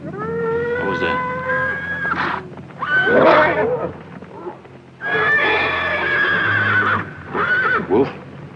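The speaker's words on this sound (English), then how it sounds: "I better tie down that stallion before he breaks loose and takes the bunch with him." An agitated stallion neighs and whinnies at night with other horses nearby, loud close shrill calls in several long bursts separated by brief pauses, with a few snorts and stamping sounds.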